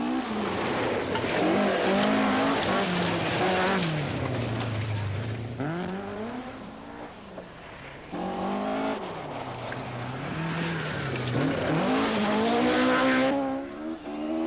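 Rally cars from the 1980 Scottish Rally roar at speed along forest stage tracks, engines rising and falling through gear changes in one continuous loud passage with no talking.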